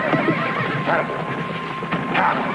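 A horse whinnies loudly nearby amid busy background noise, with a few hoof clops mixed in.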